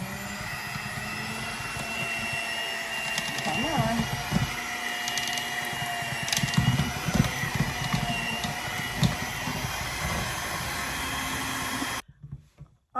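An electric mixer with its whisk attachment whirs steadily through a bowl of baking ingredients, a loud continuous motor drone that cuts off near the end, with a brief voice over it.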